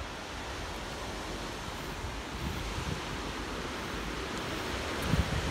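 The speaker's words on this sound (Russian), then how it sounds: "Мы нашли океан." Ocean surf at Point Reyes on a deserted California shore makes a soft, continuous wash of waves blended with light wind noise on the microphone, even and fairly faint throughout.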